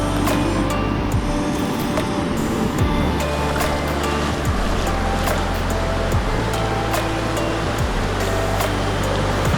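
Steady roar of ocean surf on a beach at New Chums, Coromandel, New Zealand, with broadband wash and low rumble throughout, waves breaking continuously nearby, no voices.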